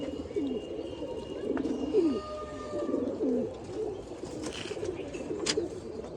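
Racing pigeons from a pigeon club coo in a steady series of soft, low calls, several rising-falling coos spaced about a second apart, close by over faint background chirps.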